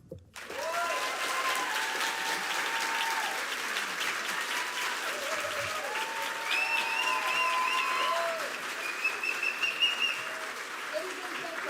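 Sustained audience applause at a World Press Photo masterclass presentation, steady and fairly loud throughout, with a few whistles and cheers rising above the clapping.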